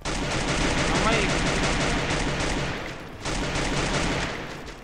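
Rapid, dense bursts of shotgun fire from an SK shotgun in Free Fire blast continuously, a brief dip partway through before the shooting resumes at full loudness.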